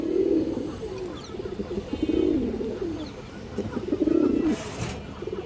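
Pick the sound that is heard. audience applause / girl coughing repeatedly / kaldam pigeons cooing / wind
kaldam pigeons cooing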